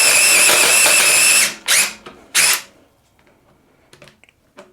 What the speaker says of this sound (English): we're going to pre-drill with this drill bit